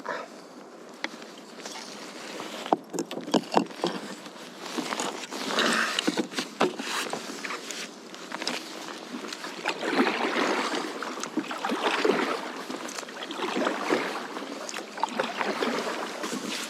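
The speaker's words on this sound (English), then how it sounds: "Let's go for a little paddle because I'm not quite where I want to be." Kayak paddling on the sea off East Lothian, with repeated splashy strokes and water noise close by, steady wind and lapping in the background, no talking.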